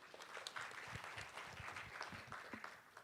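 A conference audience at the Pyeongchang Peace Forum claps to welcome a speaker, a faint, distant patter of many hands that keeps going without a pause.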